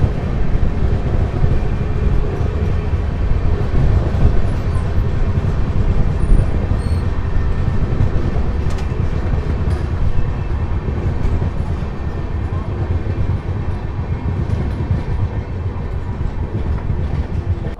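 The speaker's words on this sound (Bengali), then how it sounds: "আমাদের ট্রেন তার জার্নির 157 কিলোমিটার পথ অতিক্রম করে এসে পৌঁছেছে তার প্রথম স্টপেজ দুর্গাপুরে।" The 12023 Howrah–Patna Jan Shatabdi Express runs at steady speed near Durgapur, heard from inside as a continuous low rumble with rail clatter and faint rattles, no voices.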